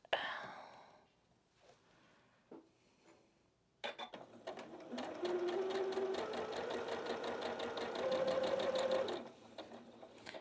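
A domestic sewing machine stitches a quilt block in one continuous run of several seconds, close and rapid, after quiet handling and faint movement with a soft voice at the start.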